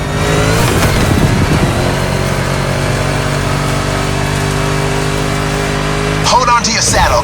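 A Mustang engine in the racing game The Crew Motorfest drones loud and steady on a swamp course, a continuous harmonic roar with a brief rev surge, while someone talks over it.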